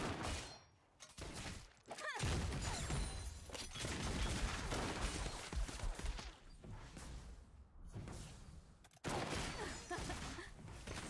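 Dense bursts of rapid video game gunfire and crashing impacts fill the scene, loud and chaotic, with short pauses between volleys.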